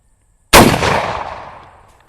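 A single loud gunshot from a 1909 carbine rifle fired outdoors: one sharp, close blast with a long rumbling tail that fades over about a second and a half.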